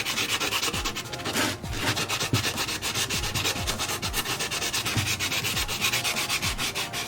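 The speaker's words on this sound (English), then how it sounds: "Let's try the sanding block. I'm just curious to see how it works." A hand-held sanding block rasps over a plaster of Paris vase in quick, even back-and-forth strokes, a close, dry scratching rhythm that continues throughout without speech.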